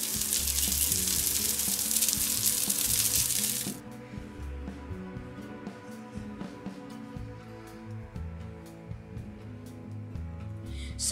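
Small burger patties for mini burgers frying in a pan, with a loud, bright sizzle for the first few seconds that then drops to a quieter, steady crackle and occasional pops.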